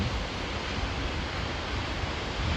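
Waterfall at Lake Chuzenji in autumn, a loud, continuous roar of falling water with dense, unbroken rushing noise that holds steady throughout, heard close up.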